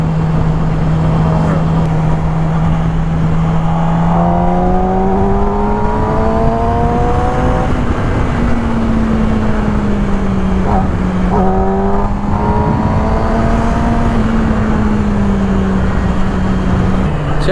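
Ducati and BMW superbikes on a Sunday ride, a steady loud engine drone with rising and falling revs as the bikes pass close by, filling the whole stretch without a break.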